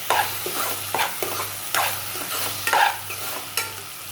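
Chopped onions sizzle in oil in a pan while a spatula stirs them in repeated scraping strokes, roughly one every half second, close and steady with no talking.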